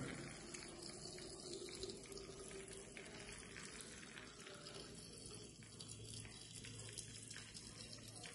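A steady stream of water pours into a heavy pot of salted raw green mango, a faint continuous splashing trickle with no talking.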